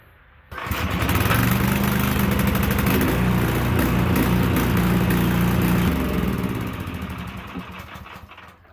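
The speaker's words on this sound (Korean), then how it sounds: "자, 한번 시동 켜 보겠습니다." An engine on an irrigation groundwater pump starts with a sudden catch and settles into a loud, steady rumble close by. It runs for several seconds and then winds down toward the end.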